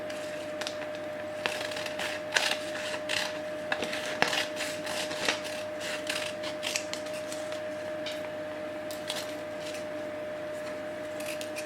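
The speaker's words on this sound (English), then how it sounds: "With the brown paper I found, I can just cut out simple tree shapes." Scissors cut brown paper into simple tree shapes, giving faint crisp snips and rustling creaks at irregular intervals over a steady low hum.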